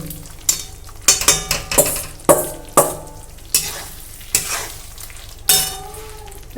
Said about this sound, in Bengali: সুন্দর করে মশলার সঙ্গে পটলটা কিন্তু কষে নেব